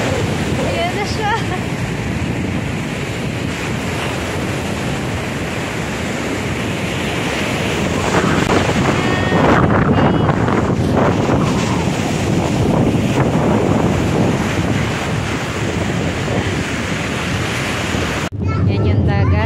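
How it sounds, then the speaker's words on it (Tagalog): Ocean waves roll in at Bombo Beach in Kiama, NSW, Australia, a loud, continuous surf wash heavily buffeted by wind on the microphone, with people talking nearby. "Yan yung dagat."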